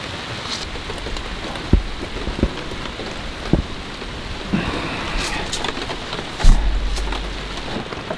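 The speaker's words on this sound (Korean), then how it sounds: "또 비 내린다." Heavy rain drums steadily on a tent at a campsite during a downpour, with scattered louder drops and thuds over the constant hiss.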